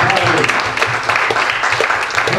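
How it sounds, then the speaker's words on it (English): A church congregation claps hands in a steady, rhythmic beat under loud singing or voices from the room, sustained and fairly close throughout. "clap your hands to the Lord"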